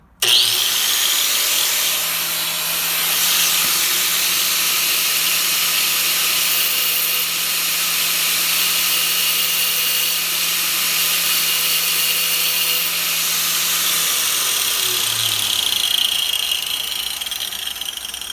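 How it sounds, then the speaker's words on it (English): A homemade tungsten electrode sharpener with its grinding wheel running steadily, a smooth whirring motor with a continuous high hiss at constant level for the whole stretch, close and loud, with no talking. "And then what you can do is flip it on, and you've got a wheel that turns smooth."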